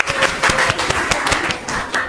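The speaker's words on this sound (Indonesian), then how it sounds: "tepuk tangan untuk kelompok 1" A classroom of students claps for a group that has just presented its discussion, a steady patter of many overlapping hand claps at moderate loudness with no talking.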